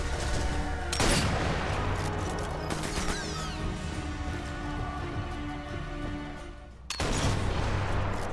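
Bursts of gunfire in Sniper Elite 4 crack out, with sharp loud volleys at the start and near the end and scattered shots and clatter in between.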